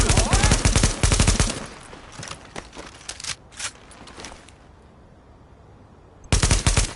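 Rapid automatic gunfire in the shooter Tom Clancy's The Division, loud close bursts at the start and again at the end, with scattered single shots in a quieter stretch between.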